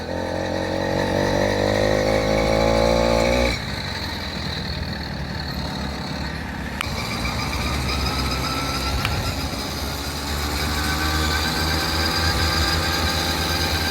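A motorized bicycle engine drones steadily while riding on a road, a loud buzzing two-stroke-style whine with rising pitch early, then a continuous revving hum with brief shifts in tone.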